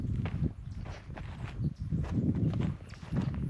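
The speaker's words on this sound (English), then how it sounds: "Look at the goats." Goats moving about outdoors on a homestead, a steady patter of hoof steps and light scuffling close by, continuous and moderately loud, with no talk.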